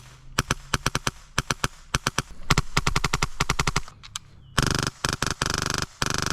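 Bursts of an airsoft gun firing full auto, close and crisp, starting as short rapid strings and then switching to longer, faster sustained rattles with brief pauses between them.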